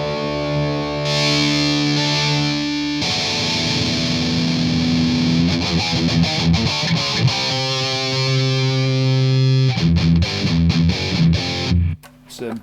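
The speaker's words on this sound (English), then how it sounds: "Let's have some heavy distortion." Electric guitar played through a Line 6 M9 heavy distortion effect, thick sustained chords and chugging riffs ringing loud and close, with a brief pause before cutting off at the end.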